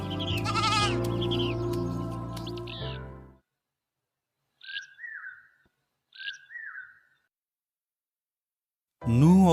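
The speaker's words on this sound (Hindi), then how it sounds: "हम अपनी भेड़ों को लें और घर चलें।" Two short, high bleats sound from sheep in a quiet pastoral setting, separated by silence. Voices talk before and after them.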